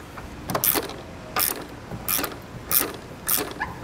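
A ratchet with an 11mm socket turns a ground stud for a trailer diode wiring kit, making five or six short bursts of rapid clicking in an uneven rhythm, close and clear, with no talking.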